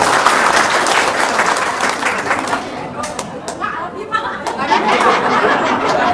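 Loud audience applause breaks out and continues throughout, mixed with chatter and a few chuckles from the crowd, with clapping thick and steady across the whole stretch.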